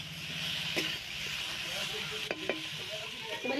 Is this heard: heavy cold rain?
no